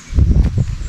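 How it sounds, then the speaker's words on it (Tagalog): Strong wind gusting through mango trees in a rural provincial hillside, a close, steady rustle of leaves with soft swells and brief low thumps. "Lakas ang hangin."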